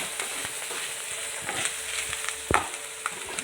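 Cooked chana dal stir-fried in a pan for a pumpkin-leaf thoran: a steady sizzle broken by scraping strokes of a spoon and a few sharper knocks against the pan.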